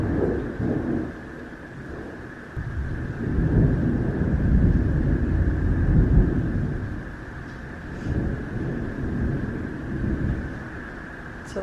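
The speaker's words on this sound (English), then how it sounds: "we still got to get through the lightning part" Low rolling thunder rumbles through a spring thunderstorm in several long swelling waves, with a faint steady hum underneath and no talk.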